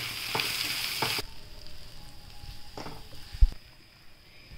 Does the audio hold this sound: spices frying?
yes